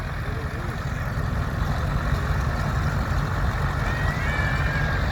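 A vintage tractor on twin wheels running in the machinery parade at the Carrington steam rally, a steady low engine drone close by that carries on without a break, with no talk over it.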